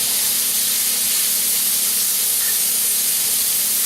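Bacon cooks in a pan for Alsatian choucroute, giving a loud, continuous hiss of frying with a faint steady hum underneath and no distinct stirring strokes.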